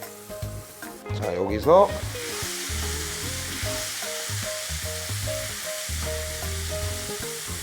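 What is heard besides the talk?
abalone stir-frying in olive oil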